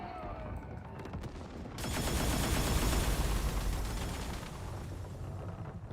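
Rapid gunfire from an SKS rifle in the survival shooter game Once Human, a dense burst of shots starting abruptly and running for several seconds at close range before fading.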